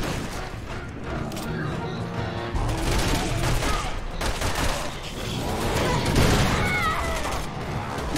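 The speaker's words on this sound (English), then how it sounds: "Oh good, the snipers are here now." Dense gunfire and booming shots from a firefight in Resident Evil 6, with sniper fire amid a continuous loud barrage of rapid shots, explosions and game effects, with a voice talking over it.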